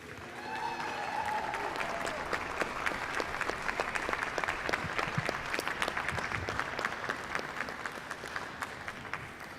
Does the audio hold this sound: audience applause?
yes